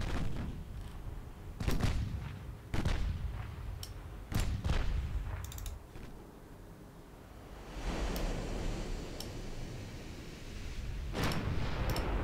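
Naval gunfire in Ultimate Admiral Dreadnoughts during a US campaign battle, several heavy booming gun reports at irregular intervals over a steady wash of ocean surf.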